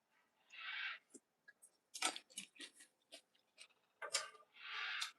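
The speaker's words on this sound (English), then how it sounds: "There goes the neighbor's bird. He's so loud." A loud pet bird call rings out twice, opening and closing the stretch, with scattered clicks, taps and short chirps in between, fairly close by.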